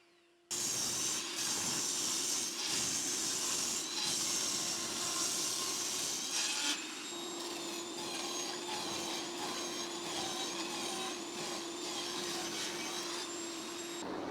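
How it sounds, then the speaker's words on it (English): A table saw runs with a loud, steady whine as timber boards are cut to final size, the pitch dipping slightly partway through as the blade takes the wood, close and continuous. "Now with my table saw, I'm going to take all the boards to the final dimensions."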